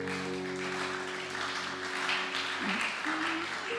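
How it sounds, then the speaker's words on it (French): A church congregation claps for Jesus during a sermon, producing dense, continuous applause over a sustained tonal hum, like a held keyboard or organ note, throughout. "Acclamons Jésus."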